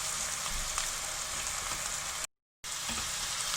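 Vegetables sizzle in a frying pan for a homemade vegetable pizza, a steady, even crackle of hot oil that cuts out briefly, then resumes at the same level.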